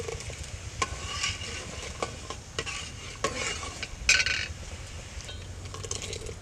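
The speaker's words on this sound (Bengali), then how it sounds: "এই রসটা ঘন্টা খানিকের মতন জাল দিতে হবে" Date palm juice boils in a pot with steady bubbling and sizzle, broken by repeated scraping and clinking strokes of a spoon stirring it, close and alone with no talk.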